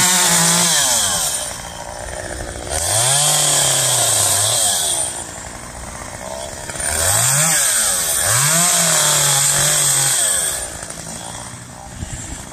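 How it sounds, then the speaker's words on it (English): A chainsaw trims crepe myrtle trees, the engine revving up and falling back to idle in repeated surges as it bites into the branches. It is loud and close, with a steady high buzz throughout and no talk. "me and Matthew's done trimming the crepe myrtles"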